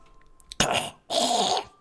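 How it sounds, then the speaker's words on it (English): A man clears his throat twice, two rough, raspy bursts close to the microphone separated by a short pause. "Clear my throat"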